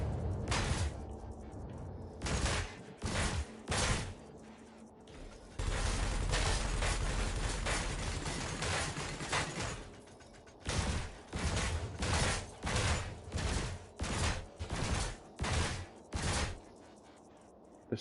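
Spaceship weapons in Elite Dangerous fire at a mega ship in rapid bursts of short, even pulses, with a sustained stretch of fire in the middle and pauses between volleys, loud and close.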